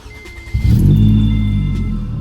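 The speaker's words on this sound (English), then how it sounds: "the ultimate test is gonna be if your car will start or not" A 2011–2016 Scion tC with a freshly replaced battery cranks briefly and its engine catches, rising into a loud, close idle that settles and keeps running steadily.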